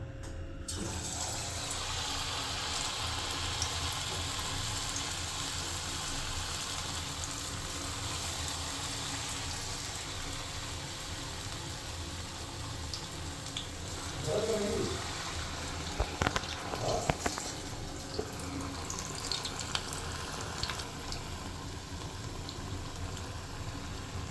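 Batter-dipped fritters fry one by one in hot oil in a kadai, giving a steady fizzing, bubbling sizzle with occasional louder crackles and light clinks as pieces drop in, heard alone without talk.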